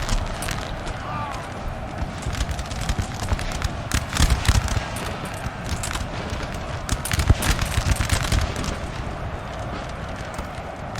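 Musket gunfire from a large battle in the video game Napoleonic Total War 3, a continuous crackle of scattered shots and volleys over a dense rumbling battle din, loud and unbroken.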